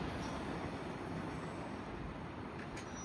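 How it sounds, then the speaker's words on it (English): A train hauling a heritage locomotive unit rolls past in falling snow, a faint steady rumble of wheels on rail with a thin high squeal riding on top. "Last 3 trains of the day each had a heritage unit on them."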